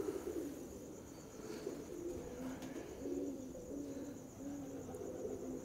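Pigeons coo softly and steadily in a pigeon keeper's loft, low rolling calls overlapping one another at close range with a faint background hum and no voices.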